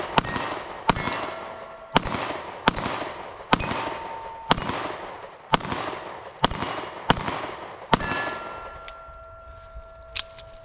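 Rifle shots at a target through a red dot sight, fired as a steady string of about a dozen sharp outdoor reports with ringing metallic clangs, spaced roughly three-quarters of a second apart, loud and close.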